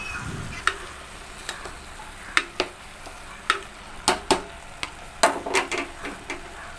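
Chopped tomatoes fry in a pan for paneer butter masala, with a soft steady sizzle beneath a series of sharp clicks and taps from stirring against the pan, close and fairly quiet.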